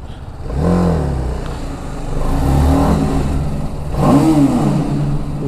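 A 2021 TVS Apache RR310 BS6 motorcycle revs hard while being ridden, three loud rising and falling engine surges close by, the bike's exhaust note dominant with no talk.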